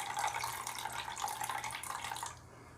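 Liquid drains from a can of olives in a steady splashing pour, fairly close and alone, then tapers off abruptly near the end.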